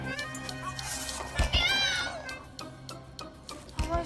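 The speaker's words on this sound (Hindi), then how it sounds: "बिल्ली" A cat meows inside a room, a few short rising cries heard up close over steady background hum and some overlapping voices.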